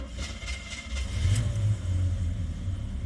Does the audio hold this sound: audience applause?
no